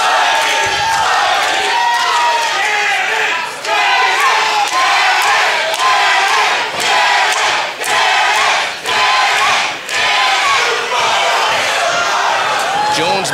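Loud, steady crowd roar from a split audience at a Fashionista Street Fight wrestling match between Ganon Jones Jr. and Mikey, with rising cheers and brief dips in level, and a commentator talking over it.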